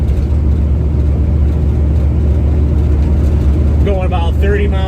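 A 1970 Nova with a 383 stroker, M21 four-speed and Ford 9-inch rear cruising at about 30 mph in third gear, a loud, steady low engine drone heard from inside with someone talking near the end.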